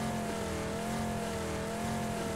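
A steady car engine in the video game PUBG drones at a constant pitch, a continuous mechanical hum with slight wavering, fairly loud and unbroken throughout.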